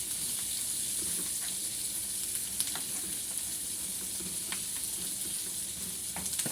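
Garlic sizzles in hot oil in a pan, a steady loud hiss crackling throughout with scattered pops and light stirring clicks, close up with no talk.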